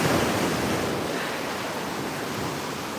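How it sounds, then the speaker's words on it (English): Waves breaking on the Gulf of Mexico shore, a steady broad wash of surf with wind noise, close and loud throughout. "I'm not saying they're the size of ocean waves, but they're definitely bigger than we normally get down here."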